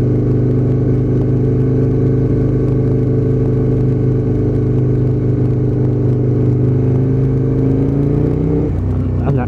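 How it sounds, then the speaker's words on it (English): An Aprilia RSV Mille V-twin motorcycle engine idles close and loud with a steady deep throb, then its pitch dips briefly near the end. "And that big V-twin grunt."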